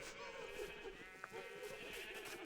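A Minecraft sheep gives a clear, wavering bleat, repeated a couple of times, quiet and overlaid with a person talking.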